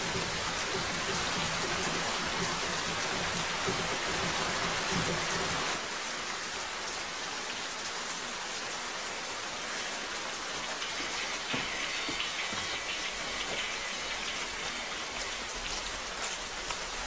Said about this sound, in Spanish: Va a llover.